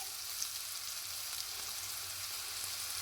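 Salted onions sautéing in a pan for Maharashtrian methi bhaji, a soft, even sizzle running steadily with no talk.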